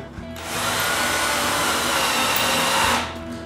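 An electric drill drives wooden rods into a handmade wooden tripod, giving one loud, continuous whine of about two and a half seconds that starts and stops abruptly, with no talking.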